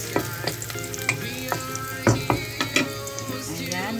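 Marinated minced pork, seasoned with a little oyster sauce, sizzles steadily in a hot pan, with scattered stirring clinks and scrapes breaking through the continuous frying hiss.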